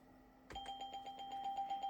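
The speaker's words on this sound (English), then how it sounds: "let's see if the Windows dingle gets stuck" A faint chiming tone plays through a sound card on a Gateway G6-400XL PC running Windows 98. Its bell-like notes seem to stutter and repeat in a stuck loop.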